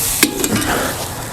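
A bacon-wrapped pork loin is pried up and flipped on a Weber Smokey Mountain smoker: a sharp metal scrape and clack, then a close, brief burst of sizzling fat that fades to a steady hiss.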